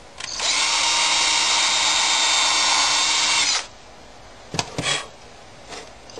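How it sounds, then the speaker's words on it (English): A power drill bores through a guitar fretboard position dot into the neck, one loud continuous whine for about three seconds, then stopping, followed by a few faint handling taps. "drill through the last position dot into the neck"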